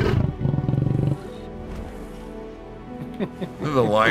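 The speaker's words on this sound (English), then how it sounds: "The lion roared at them as they went by." A lion roars in the video game Atlas, a deep rumbling roar near the start, followed by quieter game ambience and a voice breaking in at the end.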